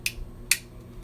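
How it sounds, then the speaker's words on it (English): Two crisp, sharp clicks about half a second apart come from a Laugo Alien pistol part locking into place, close and isolated in a quiet room. "It is a little bit tight, so just until you hear that little click"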